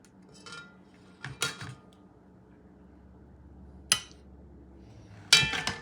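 A giant shrimp going into a pan for Creole shrimp, heard as a few sharp metallic clinks and clatters of utensils against cookware separated by quiet gaps.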